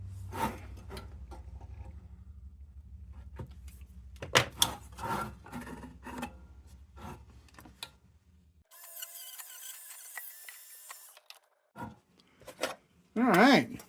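A nylon brush bit scrubs a Justrite safety can in short, uneven bursts of rough rubbing and rasping, close by and broken by pauses, with a brief burst of high machine whine partway through.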